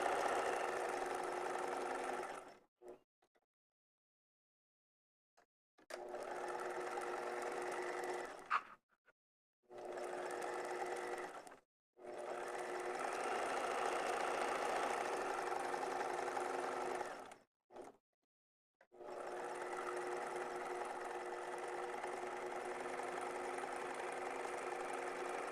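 A sewing machine basts non-stretch fabric for a garment lining, running in four steady mechanical bursts separated by short pauses, close and fairly loud with no talking.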